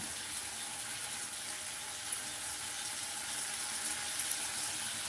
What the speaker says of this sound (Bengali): পোস্তটা ঘুরিয়ে নিয়েছি এখন এখানে আর একটু জল দেব